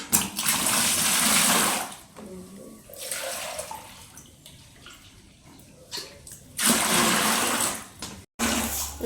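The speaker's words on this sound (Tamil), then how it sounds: "4 லிட்டர் அளவுக்கு தண்ணி எடுத்தாச்சு." Water pouring into a container, about four liters, in loud gushing bursts separated by quieter stretches of trickling and handling.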